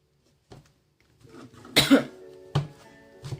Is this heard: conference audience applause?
no